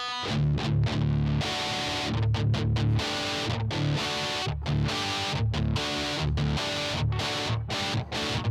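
An electric guitar runs through a distortion effects pedal, striking loud, saturated, rhythmic chords. Short choppy stabs give way to sustained crunchy notes, with brief gaps between strums.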